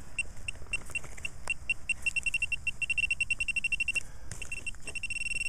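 A Makro CF77 metal detector gives a run of short, high beeping tones over low rumbling background noise. The beeps come in quick irregular bursts, repeating steadily with brief gaps, fairly close and clear.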